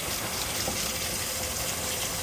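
Running tap water pours steadily over raspberries being rinsed, a constant close wash of splashing with no breaks.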